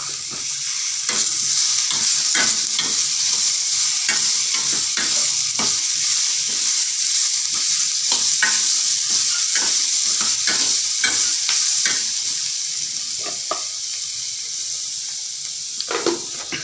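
Capsicum sautéed in a pan for spicy paneer gravy: a constant bright sizzle broken by frequent sharp scraping stirs of the spatula, close and loud, with no talking.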